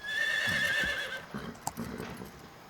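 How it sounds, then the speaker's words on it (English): A horse in the video game Metal Gear Solid 3 gives one loud, clear whinny with a wavering high pitch, then a few soft hoof clops follow nearby. "Opa, ouvimos um cavalo."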